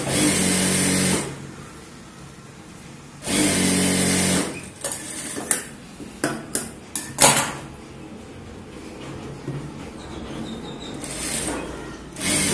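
Sewing machine stitching a single blouse lining for practice, with short bursts of steady motor whirring separated by pauses and a cluster of sharp handling clicks and knocks, close up.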